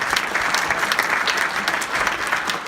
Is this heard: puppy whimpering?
no